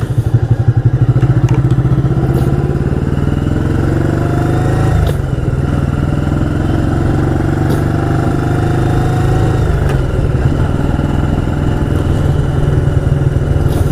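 A 1985 Yamaha Virago 700 motorcycle rides along, its V-twin engine loud and close with a steady throbbing drone, a brief dip around a gear change midway, then a sustained cruising note.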